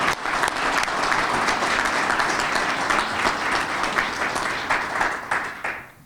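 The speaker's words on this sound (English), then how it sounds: "I think we need to give them a round of applause" Steady applause from an audience at a baseball club press conference in Gastonia, a dense patter of many hands clapping continuously for about six seconds before tapering off at the end.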